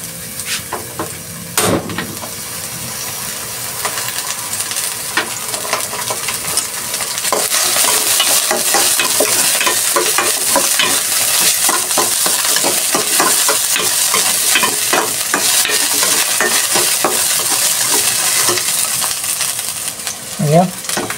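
Chicken sautéing in a pan for caldereta, a loud steady sizzle with metallic clinks and scraping from stirring, growing louder partway through and continuing to the end.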